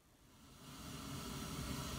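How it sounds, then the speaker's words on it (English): Unpitched white noise from a Buchla modular synthesizer patch, shaped by envelopes, swelling in as a broadband steady hiss that grows louder over two seconds and holds. "There's our white noise patch."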